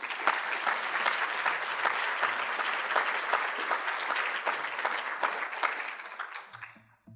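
An audience at an evening talk applauds to welcome journalist Baher Mohamed, with steady, even clapping from a full room that fades out near the end.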